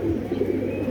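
A pigeon coos in a low, soft, throaty murmur lasting under a second, close by and alone.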